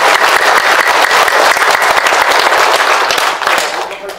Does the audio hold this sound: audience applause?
yes